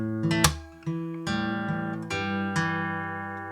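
A bar of Dire Straits' Sultans of Swing played fingerstyle on acoustic guitar: a quick flurry of plucked notes, then several steady picked notes and chords ringing into one another, close and clear with no talking.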